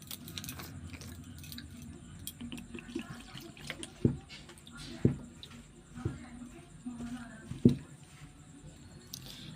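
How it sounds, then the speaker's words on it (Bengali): Water is added a little at a time to flour and worked by hand into dough, making soft wet squelching and sloshing sounds with a few louder slaps, close and quiet. "এইবার অল্প অল্প করে জল দিয়ে একটা ডো বানিয়ে নেব।"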